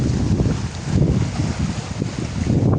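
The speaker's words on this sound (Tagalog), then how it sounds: "Grabe ang lakas ng hangin oh." Strong typhoon wind gusts at sea, a loud, continuous roar with buffeting rising and falling against the microphone, and no voices heard.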